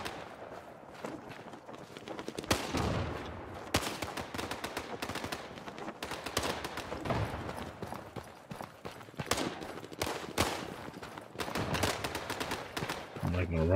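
Repeated bursts of machine gun fire in the Day of Wars war game, sharp cracks scattered across the stretch with some close, loud volleys and steady background battle noise, while a player talks over it.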